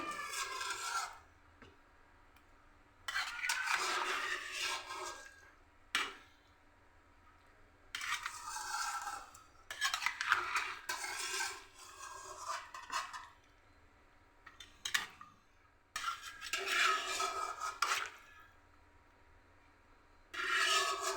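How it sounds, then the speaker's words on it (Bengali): Mixed vegetables are stirred in a cooking pan, producing repeated scraping and rubbing strokes in bursts separated by short pauses, close and fairly quiet with no talk. "সব সবজিটা আমার দেওয়া হয়ে গেছে এখন আমি এটাকে একবার নেড়ে দিচ্ছি"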